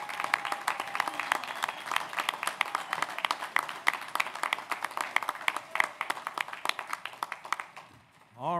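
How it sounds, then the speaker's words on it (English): A crowd at a commencement ceremony applauds master's degree recipients with sustained, dense clapping for about eight seconds, ending as a voice begins speaking over a microphone. "how about another big round of applause for all of our master's degree recipients here today?"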